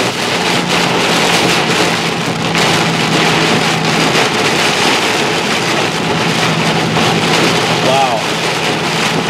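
Wind and rain lash a storm chaser's vehicle during an Ohio tornado-warned storm, a loud, dense, unbroken roar of gusts and rain with a low hum underneath throughout.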